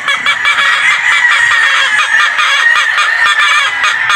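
Gamefowl roosters and hens on a game farm in Padre Garcia, Batangas, cluck and squawk in a dense, loud, continuous chorus up close, with no voices over them.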